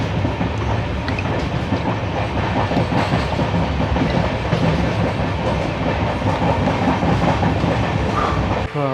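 Steady rumble and rhythmic clickety-clack of a passenger train running between Repalle and Secunderabad, heard from inside, loud and continuous without a break.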